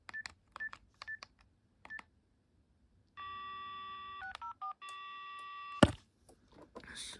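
Telephone keypad dialing on a BT 6600 cordless phone: a handful of short DTMF tone beeps spaced apart, then steady dual-tone call-progress tones with a few shifts, ending in a sharp click and faint rustle.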